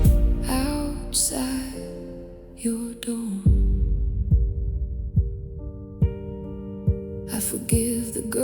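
A heartbeat effect pulses steadily in an emotional ballad, with deep soft thumps roughly once a second under sustained piano-like tones and breathy vocal phrases.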